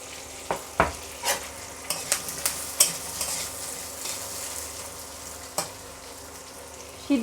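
Vegetables for chilli chicken frying in a pan, a continuous close sizzle with scattered sharp clicks and scrapes as they are stirred and tossed, moderately loud throughout, with no talking.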